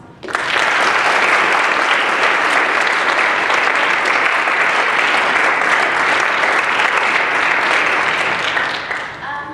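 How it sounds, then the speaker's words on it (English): Sustained, full applause from a lecture audience in a ballroom after a talk on Islamophobia and the Arab Spring, loud and even, tapering slightly at the end. "please join me in a round of applause"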